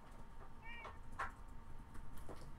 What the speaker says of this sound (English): That was a loud meow.